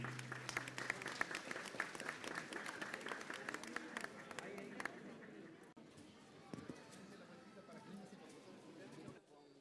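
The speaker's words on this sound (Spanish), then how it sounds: "Un fuerte aplauso para ellos." Audience applause at a school supplies and uniform handout during a community tour, a dense burst of clapping that fills the first half and then thins into scattered claps and crowd murmur.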